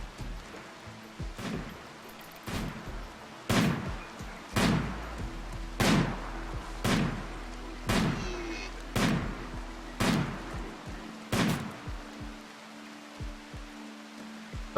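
Gunfire in the colony game Rimworld (Alpha 13): about a dozen sharp single shots crack at a steady pace, roughly one per second, over a quiet low hum.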